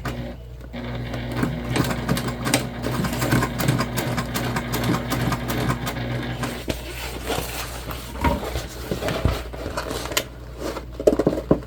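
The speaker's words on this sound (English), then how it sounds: "We're just going to sew 1/8 of an inch away from our middle seam on both sides." A sewing machine runs a straight seam on a large tote bag, a steady motor hum with rapid needle ticking that goes on for several seconds before slowing into intermittent handling and fabric noises.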